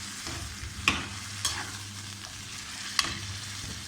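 Chicken frying in a kadai for Hyderabadi chicken karahi, a steady close sizzle with occasional stirring scrapes and clinks.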